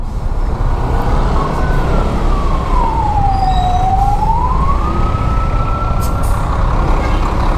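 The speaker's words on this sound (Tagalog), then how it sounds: "Malaking truck." A big truck rumbles past in heavy city traffic in the Philippines, heard from a scooter. The loud, continuous road roar is close, and a single falling-then-rising siren-like wail rides over it midway.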